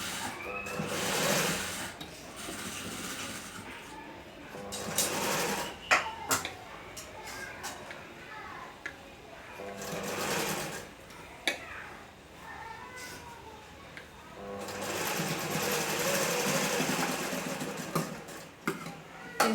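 A sewing machine stitches a kunchigi baby hood in close, rapid, whirring runs that stop and start with pauses, and faint talk can be heard between the runs.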